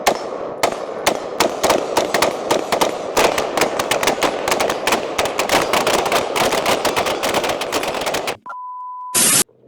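A $349 rifle fires during a 400 to 600 round test, sending dense, rapid strings of loud, sharp shots one after another, then a brief steady electronic tone near the end.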